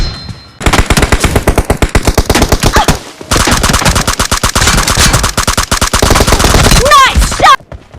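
Rapid automatic gunfire and grenade-style blasts from a team-based shooter video game, loud and dense, with a short pause near the three-second mark before the bursts resume and end in a few sharp ricochet-like whistles.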